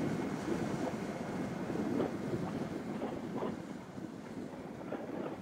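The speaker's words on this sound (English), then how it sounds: "It's just the wind in my ears making it hard to hear." Steady wind roar buffets the microphone while riding a Honda Super Cub motorcycle, a continuous rushing noise with no talk.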